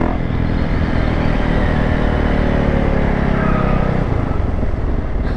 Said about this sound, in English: A little BMW hitting some donuts.